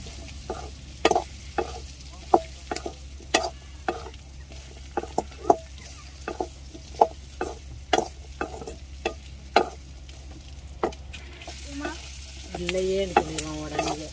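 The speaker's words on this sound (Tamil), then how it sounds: "இப்போ நாங்கள் பொறிச்சு எடுத்து வச்சிருந்த ராலை தூக்கி அதோட சேர்க்க போகிறோம்." Fried prawns for chilli prawns are stirred in a hot pan, with a low steady sizzle punctuated by repeated sharp scraping clicks of the spoon against the pan, and a brief muffled voice near the end.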